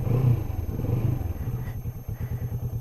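A 2017 Kawasaki Vulcan S 650 on its stock exhaust rumbles close by in a steady low, loping idle with a rapid pulsing beat, a slight revving swell near the start.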